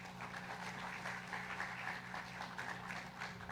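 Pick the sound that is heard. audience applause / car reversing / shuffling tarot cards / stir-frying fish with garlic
audience applause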